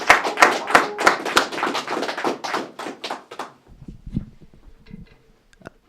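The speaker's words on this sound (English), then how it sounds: "Please give a big round of applause for my good friend, Mr. Chris Munoz." Comedy club audience claps loudly and densely for about three and a half seconds. The clapping then thins quickly into a few scattered claps and small knocks in a quieter room.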